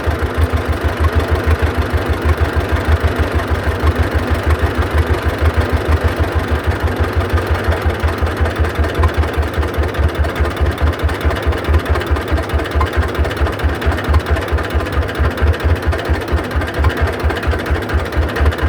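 A John Deere B tractor engine runs at a very low idle, a loud, steady, slow chuffing two-cylinder pulse that goes on evenly with no voices.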